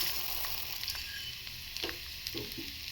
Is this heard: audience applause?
no